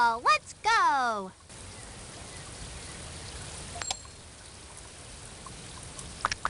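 Rain falls during a game of Backyard Football 2002, a steady soft hiss of rainfall after a brief voice at the start, continuing evenly with a few faint clicks.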